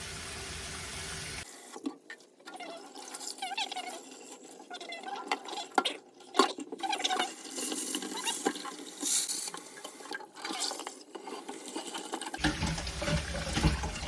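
Tap water runs steadily over philodendron roots during rinsing before repotting, a close, continuous splashing stream with brief clatters and shifts as the roots are handled, and no talk.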